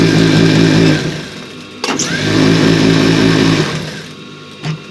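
A sewing machine stitches a men's shirt sleeve, running in a loud, close, steady hum with a brief pause in the middle and a quieter stop near the end.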